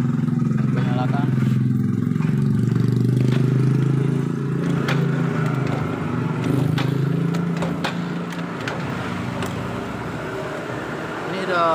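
A Yamaha Vega ZR motorcycle that has sat unstarted for two years starts up and then runs. A low, steady engine hum continues alongside mechanical clatter and someone talking nearby.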